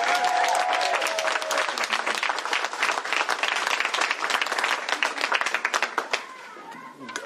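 Clapping from an audience at a governor's bill-signing ceremony greets a state senator, crisp and close at first, thinning near the end as a voice begins speaking.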